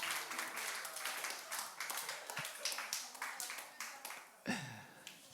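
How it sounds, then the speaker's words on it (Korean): Church congregation clapping for friends at a Sunday service after exam season: a moderate, uneven patter of applause with distinct individual claps, a few loud close ones standing out near the end. "우리 옆에 있는 친구들 잘했다고, 고생 많았다고 박수 한번 할까요?"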